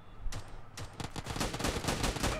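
Pistol fire in the BGMI mobile game's gun game mode: a rapid series of sharp gunshots, the first few spaced apart, then quicker bursts packed closely together, loud and close with no talk.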